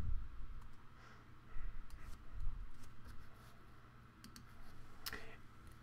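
Soft key clicks from typing a search into Google on a computer keyboard, scattered quiet taps over a low room hum, fairly faint and close.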